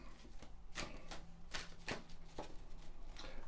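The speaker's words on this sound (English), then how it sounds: "So I'm just going to shuffle your cards now." Tarot cards being shuffled by hand, a run of crisp riffling bursts and soft slaps repeating at an uneven rhythm, close and clear with no talk.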